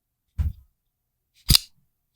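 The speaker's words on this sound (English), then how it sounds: "Listen to the knife open and close." Two crisp metallic clicks, one soft and one sharper, about a second apart, as a Kershaw NORAD stainless steel frame lock folding knife blade snaps open and then shut, close up.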